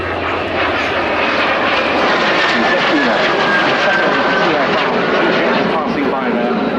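A Breguet Alizé French Navy propeller aircraft roars past overhead at an air show, loud and sustained with a shifting engine drone, while a voice talks over it.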